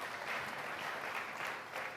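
Steady, fairly soft applause from a church congregation, an even patter of many hands clapping through the whole stretch.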